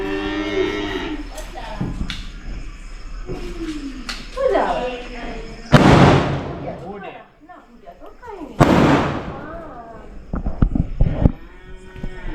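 Firecrackers burst during a Dev Diwali celebration at home: two loud, sharp bangs a few seconds apart, each trailing off in a short echoing decay, amid voices and other background sounds.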